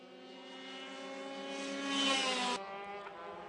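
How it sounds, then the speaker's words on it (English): Light, fast go-karts racing around a track, a steady high buzzing engine drone that swells louder as a kart passes close, then cuts off abruptly and drops back to a more distant whine. "These go-karts are very light and very fast."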